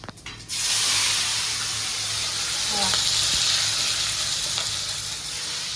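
Cumin seeds sizzle in hot oil with a steady, loud, close hiss that starts abruptly and fills the whole stretch, faint stirring clinks underneath.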